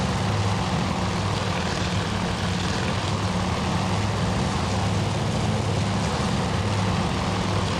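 Wildcat fighter planes in a World War II carrier combat video game, a continuous loud droning propeller-engine roar with a pulsing low hum and no talking.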